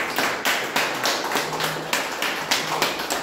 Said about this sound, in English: I'd like us to all give him a round of applause